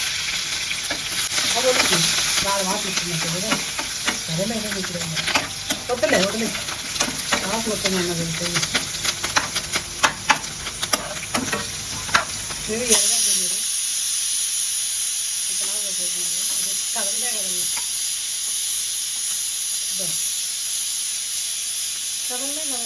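Drumsticks (moringa pods) fry in a pan with a loud, constant sizzle and hiss, broken by scraping stir strokes. A voice talks over the cooking, and the frying continues alone after a sudden drop in level.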